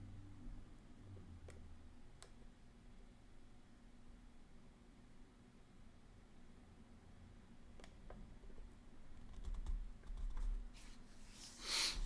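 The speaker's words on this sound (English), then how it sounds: "I'm typing here." Faint computer keyboard typing, sparse keystroke clicks over a steady hiss of background noise, with a slightly louder burst of activity near the end and no talking.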